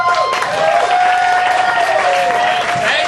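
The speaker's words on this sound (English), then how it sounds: "Please give a nice round of applause to Cory Blevins." A comedy club crowd applauds as a stand-up comedian is introduced at a live show, dense sustained clapping with some cheering, loud and continuous throughout, a steady tone ringing faintly beneath the crowd noise.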